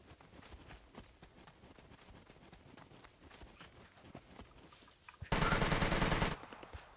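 Gunfire in the video game SCUM crackles in rapid, light shots under scattered game noise, then ends in a loud, sustained burst of automatic fire for about a second.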